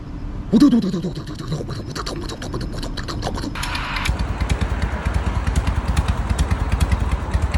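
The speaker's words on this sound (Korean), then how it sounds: "엔진의 박자가 그 말발굽 같은 그런 배기음을 내고 있어요" A 1993 Harley-Davidson Fat Boy with an Evolution engine revs, its exhaust throbbing in a loud, lumpy, uneven rhythm close by, with mechanical clatter early and a steadier pulsing beat building later.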